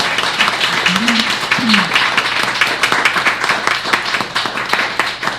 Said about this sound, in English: let's give another warm welcome to the panel, another warm round of applause to the panelists